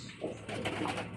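Pigeons cooing in a loft, a brief soft throaty coo lasting about a second, heard close up.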